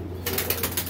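Pigeons flying and cooing: a sudden burst of wing flapping rising after a brief quiet moment, with soft rhythmic wingbeats close by over a low steady hum.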